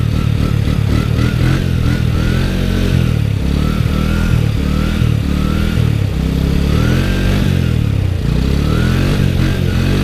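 An ATV engine revs hard and steadily during a sit-down wheelie, its loud throttle held with surging pitch and rattling clatter throughout, close to the rider with no talk.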